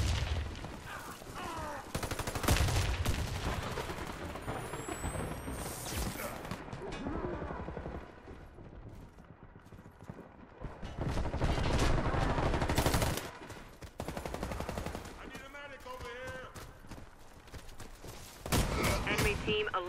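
Bursts of gunfire in a tactical shooter video game, loud broadband volleys from a MAG 7 shotgun and team weapons laying down suppressing fire, separated by quieter stretches with game effects and no talking.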